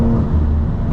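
Tuned BMW M340i xDrive with a custom XHP tune pulls hard in sixth gear, a steady, loud, droning engine hum heard from inside the car without talking.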